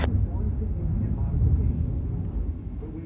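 Blue Angels jets flying at the Thunder Over Michigan air show, a broad distant low roar of engine noise holding steady with a commentator talking over it.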